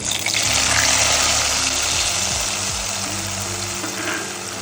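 Strained mustard paste hitting hot oil in a pan for a Bengali egg curry, a loud, dense sizzle and bubbling hiss that fades slowly, heard close and alone.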